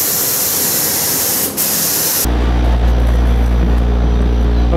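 Spray gun applying primer to the fender of a 1950 Chevy truck: a loud, steady broadband hiss of spraying that briefly stops, then resumes over a heavy low compressor or motor drone, with no talking.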